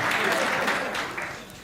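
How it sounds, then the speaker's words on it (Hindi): A theatre audience at a Hindi stage comedy show claps in dense, sustained applause that fills the whole moment and eases off slightly toward the end. "एक बार पूरा सदन मुझे ताली बजा के आशीर्वाद दे।"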